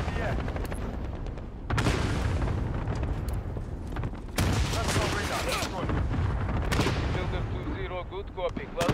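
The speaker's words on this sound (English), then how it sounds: "Friendly cluster strike inbound" Cluster strike explosions in Call of Duty: Modern Warfare rumble in a steady barrage of booms mixed with rattling gunfire, loud and continuous across the battle, with occasional in-game voices.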